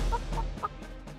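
A hen clucks in a short run of four or five quick, bright calls, close and clear with no talk over it.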